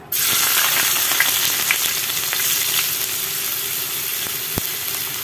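Ginger sizzles steadily in oil left over from frying milkfish, a loud continuous frying hiss from start to finish, broken by a few faint stirring clicks.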